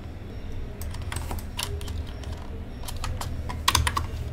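Computer keyboard typing heard alone, with several bursts of quick clicking keystrokes and short pauses between them, close and moderately loud over a low steady background hum.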